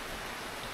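Steady rain falls in Nueva Ecija, a dense, even hiss that holds without a break, moderately loud and close.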